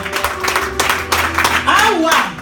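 A church congregation claps to acclaim Jesus during a Sunday service, with rhythmic handclaps running throughout. Singing and voices rise over the clapping, and a sustained tone sounds faintly beneath.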